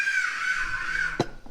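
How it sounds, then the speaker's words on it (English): A bird calls outdoors in Dumaguete in the Philippines, giving a sustained, raspy tone. A short sharp call cuts in near the end, with no talk over it. "what bird is that?"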